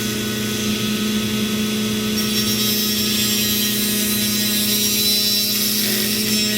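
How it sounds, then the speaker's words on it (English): A Dremel rotary tool grinds several metal hook picks at once, a steady high-pitched whine with a constant motor hum, loud and continuous throughout, with a slight vibration and no talking. "So let me fire up my Dremel."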